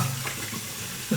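Tap water runs into a sink while something is rinsed under it, a soft steady splash with small clatters, fairly quiet and close, no one talking.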